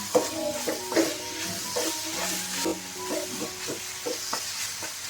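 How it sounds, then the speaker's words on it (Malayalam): Sugar being stirred into a snack mixture in a hot pan, with a soft sizzle and hiss under repeated scraping and tapping strokes of a spoon against the pan. "ഇനി ഇത് നന്നായിട്ടൊന്ന് മിക്സ് ആക്കി കൊടുക്കാം."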